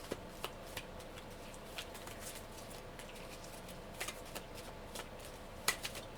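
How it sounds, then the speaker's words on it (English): Meditation and journaling cards being shuffled, giving soft scattered riffles and light taps spread across the stretch, fairly quiet and close with no talking. "we're going to pull some meditation and journaling cards for you."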